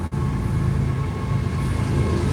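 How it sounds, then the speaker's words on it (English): A CSX freight train rumbles past nearby, a steady loud low roar that fills the whole stretch without a break. "One of those CSX trains that go back here."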